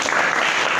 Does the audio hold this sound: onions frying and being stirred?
no